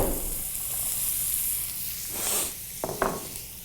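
Cannellini beans hit a hot pan with pancetta, giving a steady close sizzle with a brief hissing surge near the end and a couple of sharp clicks.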